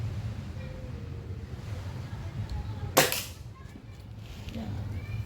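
A Crosman F4 Quietfire air rifle fires once on a beach in Naic, Cavite: a single sharp, close crack over steady low surf and wind noise.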